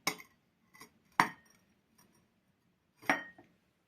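Ceramic salad bowls and plates clink as they are set down and handled during an unboxing, a few sharp separate knocks and rattles with quiet gaps between them, close and fairly soft.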